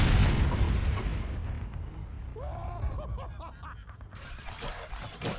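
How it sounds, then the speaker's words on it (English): Junkrat's explosions in the Overwatch game arcade mode: a dense, rumbling burst of booms at the start that fades, followed by softer scattered pops, with a bright burst near the end. "Oh no, explosions for Junkrat."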